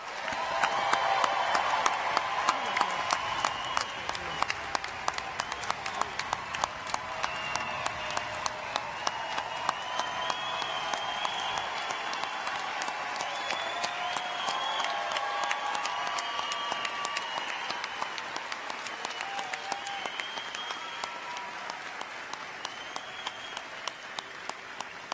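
A graduation audience gives a long round of applause for the graduating class, steady many-handed clapping that carries on for over twenty seconds and slowly thins toward the end.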